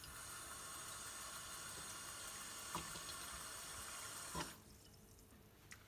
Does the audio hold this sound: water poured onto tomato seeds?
yes